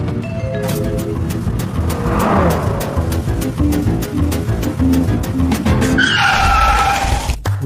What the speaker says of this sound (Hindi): एक तो तुम इस खटारा सी वैन को इतनी फास्ट चला रहे हो